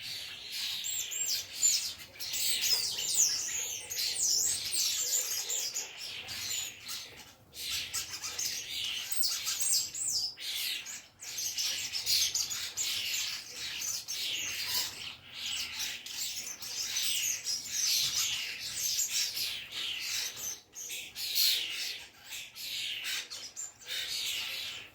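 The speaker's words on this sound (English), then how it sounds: "the starlings came round for their, I think, 4th breakfast today, and were making such a racket" A flock of starlings squawks and chirps nonstop in a busy, noisy chorus of overlapping high calls and whistles, moderately close.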